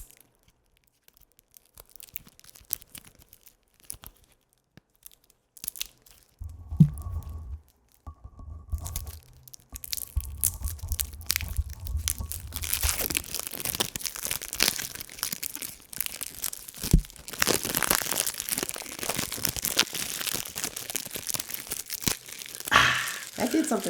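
A package wrapper is torn and crinkled open, giving a long run of loud, dense crackling and rustling that builds after a quieter start, with people talking over it.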